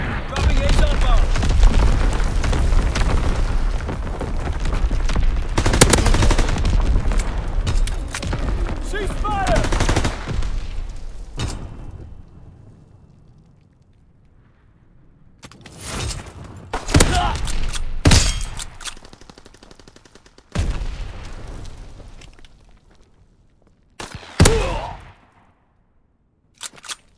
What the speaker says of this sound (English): Firing division artillery. Target position confirmed. Sending mortar rounds.